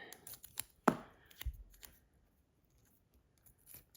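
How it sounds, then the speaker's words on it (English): Washi tape cut and torn by hand: a few sharp, close snips and crisp rips in quick succession, followed by quiet rustling and faint handling of paper. "Just trim it in half. Wherever it rips, that's fine."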